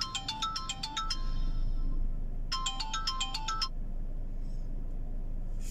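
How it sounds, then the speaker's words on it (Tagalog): A new Huawei Nova Y91 phone plays its ringtone for an incoming call: a bright, fast melodic phrase sounds twice with a pause between, close and clear, over a steady low background hum and no speech. "May tumawag pa."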